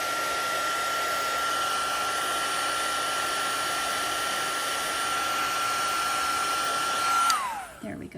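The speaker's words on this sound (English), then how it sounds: "I missed a spot, so I'm going to heat that up a little bit more." A heat tool melts embossing powder on a handmade card, a steady, close whir of hot air running evenly for about seven seconds before switching off and winding down abruptly.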